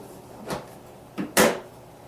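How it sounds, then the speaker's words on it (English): Plastic filter door on a water ionizer being refitted, three quick clicks and snaps with the last one loudest, close and with no voices. "reinstall the filter door."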